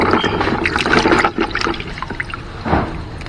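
Water poured out for pigs in a farm pen, a steady splashing, trickling stream with a brief dip midway before a fuller gush near the end, close and fairly loud with no talk over it.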